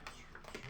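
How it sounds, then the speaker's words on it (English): Magic cards being shuffled by hand during a tabletop game, a quiet run of soft, quick rapid riffling clicks and flicks in close succession, alone with no voices. "It's the way I shuffle magic cards so they don't bend."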